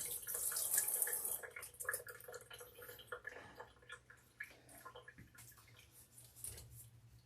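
Hands rinsed under a running kitchen tap while making ravioli lasagna, a faint splashing water rush strongest at the start, then fading into scattered drips and small knocks.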